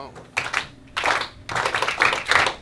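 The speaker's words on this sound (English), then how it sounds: "I'm going to clap it quiet" A teacher's hands clap in short bursts to quiet a classroom, several sharp claps in quick groups with brief gaps, close and fairly loud, with children's voices faintly around them.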